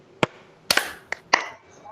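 Audience at an Indonesian training session clapping in unison, a few sharp separate claps in a loose rhythm, fairly close, with quiet gaps between them.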